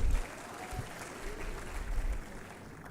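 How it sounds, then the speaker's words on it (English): A conference audience at an East African regional economic gathering gives a round of applause, a soft, diffuse patter of many hands that sounds somewhat distant and stays fairly even throughout. "Please give them a big round of applause."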